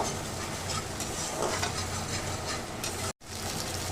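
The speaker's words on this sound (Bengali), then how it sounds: "এবার আমি তেলের মধ্যে দিয়ে দিচ্ছি সামান্য পরিমাণে আদা আর এক টেবিল চামচ মতো রসুন বাটা এটাকে ভালো করে একটু আমি কষিয়ে নেব" Ginger and garlic paste sautéing in hot oil for a vegetarian ridge gourd masala gives a steady, close, broadband sizzle with faint stirring scrapes, briefly cutting out near the end before resuming.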